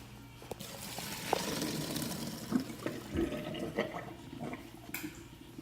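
Hot liquid pours steadily through a strainer for several seconds with soft splashing and a few faint clinks.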